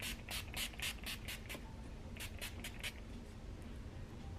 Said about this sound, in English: I'm gonna just go in with my setting spray instead of a powder to set this